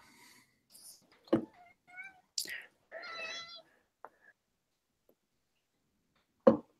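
A cat meows several times in short, separate calls, close by in an otherwise quiet room, with faint breathy whispers and a sharp knock at the end.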